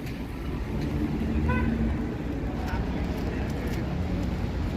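Car horn honking at a truck on rainy downtown Yonge Street in Toronto, a short toot or two rising over steady wet traffic noise and street bustle.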